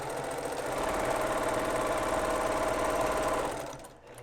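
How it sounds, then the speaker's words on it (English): A sewing machine stitching quilt blocks runs steadily and close for about three and a half seconds, a dense rapid mechanical chatter, then slows and stops. "I'm sewing right up to the pin and pull it out."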